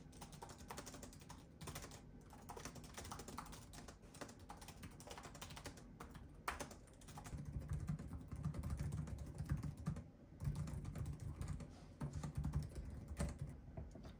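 Steady typing on the plasticky, rubbery-feeling keys of a Lenovo Legion 5 Pro 2023 AMD laptop keyboard, a close continuous patter of keystrokes with occasional heavier taps and no talking.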